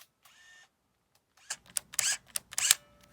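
A 1980 Fujica Auto 5 Date point-and-shoot film camera whirs faintly, then gives a series of close, crisp mechanical clicks and ratcheting snaps from its shutter and advance lever, with a thin electronic whine at the end.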